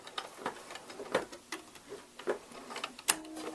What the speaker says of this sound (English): come to the edge, and backstitch once again